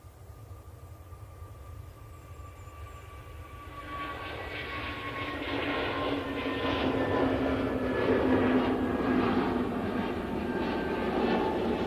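An airliner on its takeoff roll at Manchester Airport, its jet roar heard from a distance and swelling steadily louder as it accelerates down the runway, with no voices over it.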